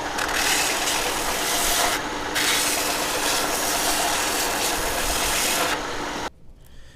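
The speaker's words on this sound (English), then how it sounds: "And we're going to drill our holes, so let's do that." A power drill bores holes into a wooden tea light candle holder with bark still on, a steady loud whirring grind for about six seconds with a brief dip, then cutting off abruptly.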